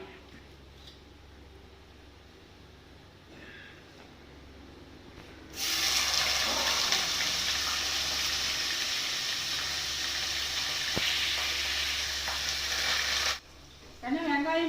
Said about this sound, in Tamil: பச்சை மிளகா கருவேப்பிலை போட்டுருக்குறோம்ல நல்லா வந்து முருகலாக ஆகட்டும்